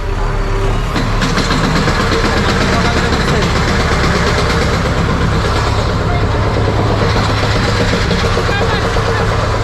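A train pulling into Ratnagiri railway station in the Konkan region, with a loud, constant engine rumble filling the platform while people talk nearby.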